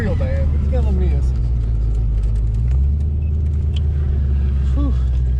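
Foxbody Mustang that sat unused for over eight years, its engine idling rough with a misfire, a steady low rumble running close by as people talk over it.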